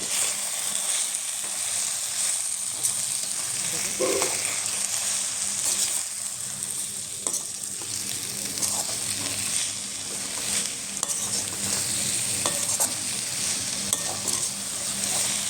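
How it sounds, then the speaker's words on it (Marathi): Coarse ground moong dal being stirred into amaranth greens frying in a pan: a continuous sizzle with repeated scraping and clinking stirs throughout, close and fairly loud, with no talking. "आणि आता हे जे केलं होतं आपण मुगाच्या डाळीचे भरड ती मी घालते ह्याच्यात आणि ही अशी मिक्स करून घ्यायची मिक्स करते"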